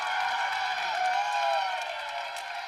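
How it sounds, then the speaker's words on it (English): Steady crowd applause and cheering fill an arena after a kill in the Creighton vs. Texas NCAA volleyball regional semifinal, a dense, even wash of clapping that holds strong throughout before easing slightly near the end. "It's the kill that gets the applause"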